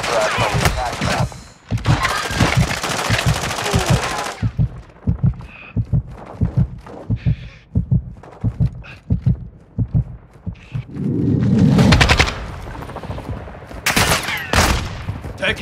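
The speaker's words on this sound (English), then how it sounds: "Taking effective fire." Call of Duty Warzone DMZ gunfire erupts in loud bursts of automatic fire and scattered single shots, separated by quieter stretches with thuds, and game radio voices speak between the volleys.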